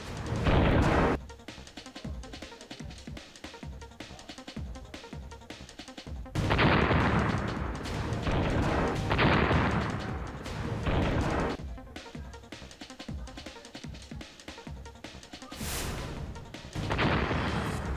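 An anti-tank missile strikes a Russian boat near Mariupol amid gunfire, with repeated heavy crashing blasts and bursts of shots rising and falling over a dense, noisy background.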